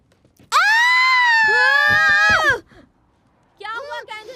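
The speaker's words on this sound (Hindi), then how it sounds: "चिल्ला क्यों रही हो?" Girl screaming, one long loud piercing scream lasting about two seconds, followed after a pause by a shorter wavering cry, close and alone.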